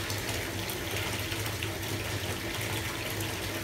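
Bath water churning and fizzing steadily as a fortune cookie bath bomb is dropped into a filling tub, a constant loud rushing wash with no talk.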